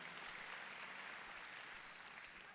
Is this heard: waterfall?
no